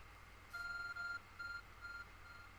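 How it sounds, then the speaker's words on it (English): A short electronic beeping pattern from a phone in Pokemon Legends: Arceus: several clear, steady tones in quick bursts, fairly quiet over a faint background hum. "Your arc phone is beeping."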